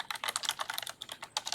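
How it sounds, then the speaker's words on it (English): Notes are typed on a computer keyboard in quick, uneven bursts of close, crisp keystrokes that clatter steadily for about a second and a half, with no voices. "And so I'm typing some notes as you go."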